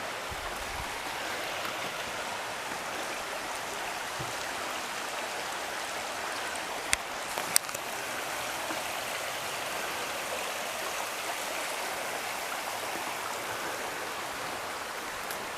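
A river flows through forest along a hiking path, making a steady broad rushing wash of water that runs unbroken for the whole stretch, with a couple of faint knocks midway and no voices.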